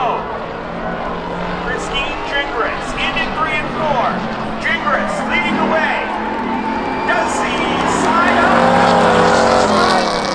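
A 1992 Chevy Camaro races in spectator drags at Seekonk Speedway, with loud engines roaring and shifting pitch as the cars run, while an announcer talks over them throughout.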